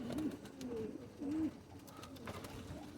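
White pigeons coo softly at a loft, giving a few short throaty calls over faint background rustle and outdoor ambience, with no talking.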